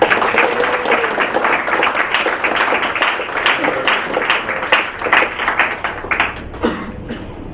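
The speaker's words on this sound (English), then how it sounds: "I think he deserves a bigger round of applause." Sustained audience applause filling a hall after a motivational talk by speaker Krish, dense steady clapping at full strength throughout with no voices over it.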